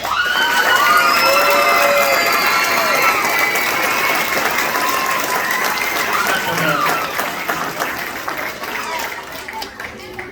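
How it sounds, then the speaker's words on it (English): Loud applause and cheering at a sixth grade graduation, with children shouting and whooping over dense clapping that slowly thins toward the end. "let's give a round of applause to the person who really made this happen"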